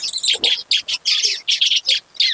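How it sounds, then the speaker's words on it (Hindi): Small birds chirp busily around a hanging nest, bright tweets coming in quick bursts with short pauses between, close and loud, with no voices. "इनकी चहचहाट से आपको पता लग रहा हो कितनी खुशी नजर आ रही है।"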